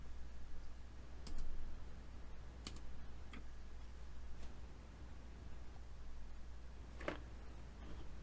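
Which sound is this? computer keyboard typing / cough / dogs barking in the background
computer keyboard typing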